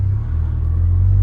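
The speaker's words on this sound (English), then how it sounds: "It's got a deep noise now, isn't it? It's much deeper, more rumble." A 350 bhp GTI car engine gives off a deep, loud, steady low rumble at idle, close up, with no talking over it.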